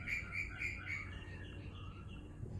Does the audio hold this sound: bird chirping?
yes